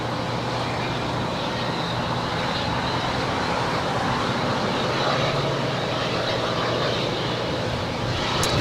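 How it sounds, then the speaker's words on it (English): A KLM Boeing 777-200ER, flight 603 from Amsterdam, arriving at Los Angeles International Airport with a steady, loud, broad jet roar that holds evenly throughout with no break. "the 777-200ER coming in from Amsterdam, flight 603, the second KLM flight of the day"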